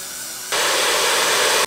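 An aerosol can of hairspray is sprayed onto hair, starting after a brief quiet moment as a loud, steady, close hiss that holds for over a second before cutting off.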